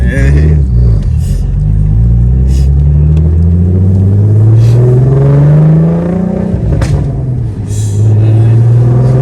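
Big-turbo 2008 Saab 9-3 Aero XWD engine revving hard from inside the car, a loud rumbling drone climbing steadily in pitch for several seconds before dropping back and settling into a lower cruise.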